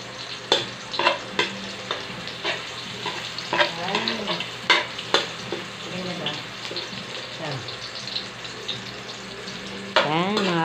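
Onion frying in a pan for pansit bihon, a steady sizzle under repeated sharp scrapes and clacks of a utensil stirring, with occasional voices in the background.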